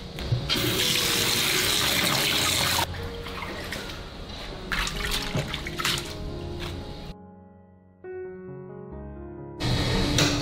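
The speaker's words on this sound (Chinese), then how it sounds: "我们再来洗一些今天中午要吃的青菜。" Fresh homegrown rapeseed greens (youcai) washed under a running kitchen tap in a sink, a loud steady gush of water with splashing and rummaging, briefly quieter near the end before the flow picks up again.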